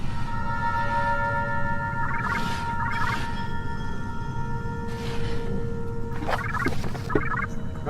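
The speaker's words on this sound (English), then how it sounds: "Now that noise is probably a phone call, video call." A warbling electronic video-call ringtone in the video game Penumbra: Black Plague chirps in short bursts, twice early and then three times near the end, over a steady low ambient hum.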